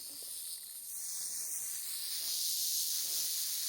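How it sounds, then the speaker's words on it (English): A timber rattlesnake on Pennsylvania public land gives off a steady, close, bright hiss-like buzz that swells slightly and holds without a break for several seconds. "Pretty good rattle on him too."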